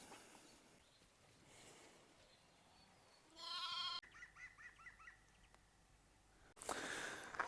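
Ewes on a spring farm bleat in a few short, wavering calls, one after another, moderately close, set against quiet outdoor background with no speech.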